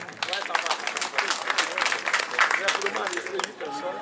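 Applause at a village gathering for the chief of Ondiayo: a crowd claps in a quick, uneven patter, with voices and chatter heard over and between the clapping.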